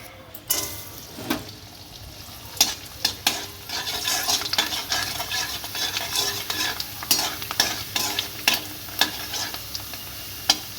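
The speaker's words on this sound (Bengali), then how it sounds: "এবার একে একে সব পাপড় ভেজে নেবো" Papad frying in hot oil in a village kitchen, a steady close sizzle under a run of sharp utensil scrapes and taps, with no talking.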